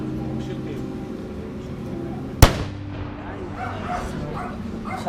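A single sharp, loud bang from a toy cannon cuts through a steady background hum and murmur, with a brief decaying tail afterward.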